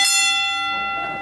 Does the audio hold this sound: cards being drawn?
no